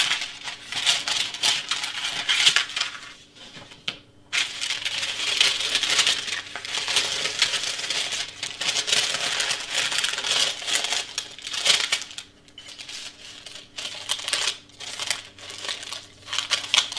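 Sublimation paper is handled, crinkled and trimmed to protect a heat press, giving a continuous close-up rustle with scattered crisp snips and taps and brief pauses, with no talking.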